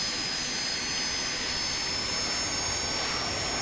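A four-engine Lockheed JetStar taxiing in Microsoft Flight Simulator gives off a steady, close jet-engine whine and roar, constant and even in level throughout, with a thin high tone above the broad rush.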